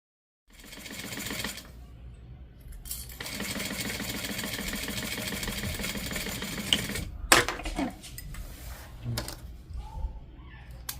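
Sewing machine basting down a zipper with a stitch about 1/8 inch from the edge, running in a steady close whir that pauses briefly partway through, with light handling clicks around it.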